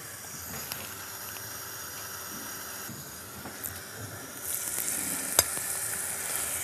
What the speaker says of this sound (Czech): Kousky masa dám na rozpálenou pánvičku